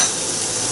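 Duck pieces sizzle and spit in a hot frying pan as they are turned over, a close, steady crackling fry for a brief moment.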